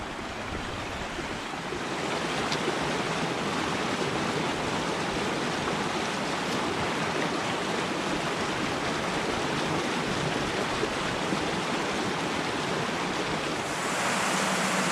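The Greenfall River, a smaller woodland stream at this point, flows alongside a hiking trail on the Narragansett Trail, giving a steady, close, broadband rush of moving water with no talk throughout.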